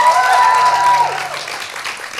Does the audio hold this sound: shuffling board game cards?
no